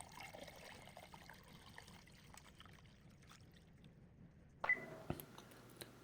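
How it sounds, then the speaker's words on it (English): Bone broth strained through a mesh: a soft, steady trickle of liquid runs close by, then a brief louder splash and clink near the end. "Strain everything through a mesh for a smooth, clear broth."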